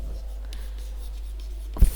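Pen or chalk scratches out numbers during a primary-school math lesson on tenths and hundredths, soft scribbling strokes close by that end in a sharper tap.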